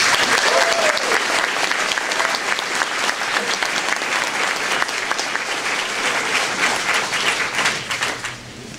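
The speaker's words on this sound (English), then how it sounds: "Please join me in welcoming Professor Gurney." An audience at a debate on whether God exists applauds to welcome a professor to the stage, with dense, sustained clapping that stays loud for several seconds and then tapers off at the end.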